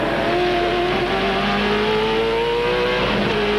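A V8 Supercar race car engine at the 2001 Australian Grand Prix whines and drones at high revs, its pitch easing down then climbing again as it brakes and accelerates, loud and continuous.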